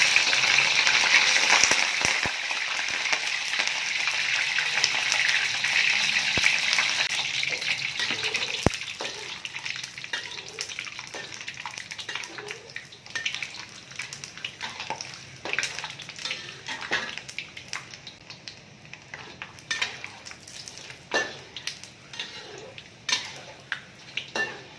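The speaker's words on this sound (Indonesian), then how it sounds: "saya akan goreng kacang tanahnya dulu" Peanuts frying in oil in a pan for homemade Malaysian nasi lemak, a loud steady sizzle that gradually softens and thins out, with scattered clinks and scrapes of utensils and no talk.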